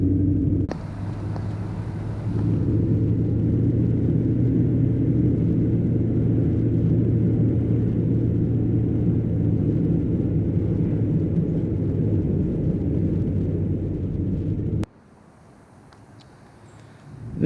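A 2000 C5 Corvette with a 6-speed manual drives along a road with a steady, loud engine rumble and road noise from inside the car, ending abruptly as the sound drops to a quiet hum.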